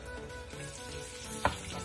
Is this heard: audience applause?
no